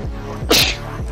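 A single sharp sneeze bursts out over a steady, rhythmic electronic music loop during an Apex Legends match, close and loud for a brief moment.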